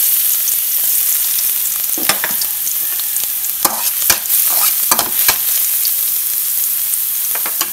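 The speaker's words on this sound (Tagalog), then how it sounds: "At kapag mainit na po yung ating mantika, ilagay na natin yung ating garlic" Garlic fries in hot oil in a kawali, a loud continuous sizzle broken by scattered stirring scrapes and pops near the middle, close up and with no voices.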